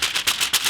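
Wax paper inside a new Nike shoe box rustles and crinkles in several close, crisp bursts, each rising and falling in a quick rhythm with no talking.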